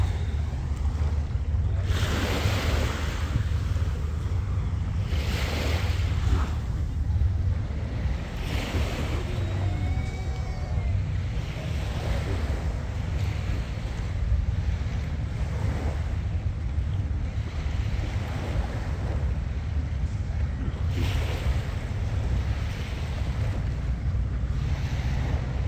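Ocean waves at Pattaya Beach at night roll in as continuous, loud surging washes with gusty wind noise on the microphone, and no one speaks.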